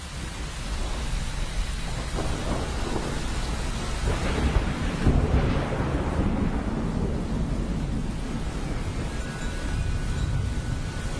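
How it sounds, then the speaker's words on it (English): Heavy tropical rain pours steadily during the Singapore National Day Parade 2017, with deep rolling thunder swelling midway and rumbling on under the constant hiss of rain. "And here comes the rain"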